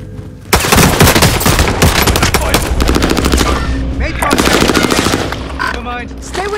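Loud, rapid bursts of machine gun fire in a battle royale video game on a Pacific map, close and rattling in dense strings, with a voice shouting over the shots partway through.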